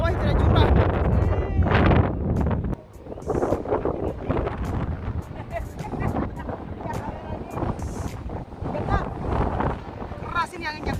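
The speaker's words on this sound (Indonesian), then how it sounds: "Keras ini anginnya, keras." Strong wind on the Cornwall coast beside a cliff buffets the microphone in loud, gusty roaring bursts, while people talk through it.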